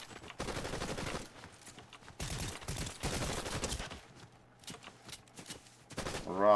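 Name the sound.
gunfire in Fortnite video game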